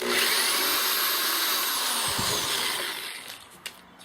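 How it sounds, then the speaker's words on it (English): A power drill bores a 3/8 inch hole with a twist bit after a 1/2 inch Forstner hole, a steady close whine running for about three seconds before spinning down with a couple of brief bumps at the end. ".3/8 inch drill bit hole"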